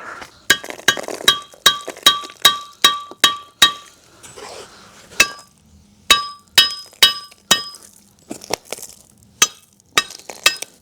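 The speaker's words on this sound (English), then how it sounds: "Hammer all the loose stuff off." Hammer knocking loose rust off the front hub of a Golf GTI, sharp metallic strikes in steady bursts of several blows with short pauses between, loud and close with no talk.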